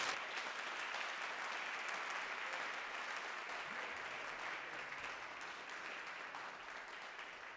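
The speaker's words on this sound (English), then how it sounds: "One more round of applause for D1." An audience at a spiritual life lecture applauds in a steady, dense wash of clapping that holds level throughout, filling the room with no voices above it.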